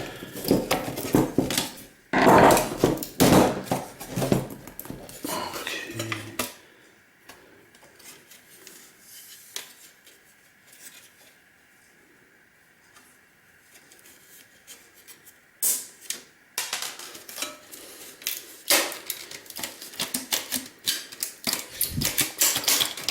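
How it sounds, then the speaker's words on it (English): Metal chisel scraping and prying a circuit board out of a PlayStation 3 being scrapped, with close rasping, clicking and knocking that comes in bursts around a long quieter stretch. "We'll just have a go with the chisel and see, can we pry the board away."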